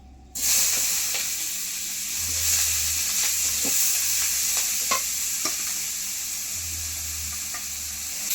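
Thin-sliced onions fry in a small amount of leftover fish-frying oil in a kadai, giving a steady close sizzle and hiss throughout, with occasional stirring clicks and scrapes.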